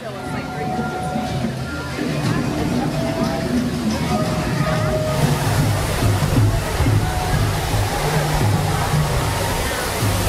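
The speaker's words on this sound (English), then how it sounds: "look at that waterfall over there" A waterfall at Animal Kingdom rushes and splashes at night in a loud, continuous roar, with a crowd's voices murmuring underneath.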